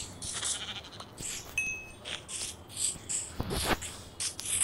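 Minecraft sheep let out several short, nasal bleats at intervals over a quiet game background, with a few brief game sound effects scattered between the calls.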